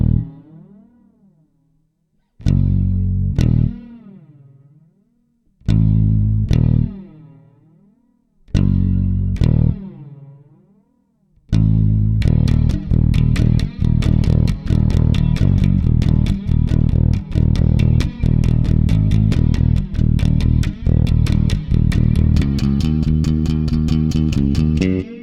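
A bass guitar runs through the Holy Flerb effect on a Zoom MS-60B multi-effects pedal. A few sustained, wavering notes ring out and decay, then a fast run of repeated picked notes follows, with a warbling, modulated tone.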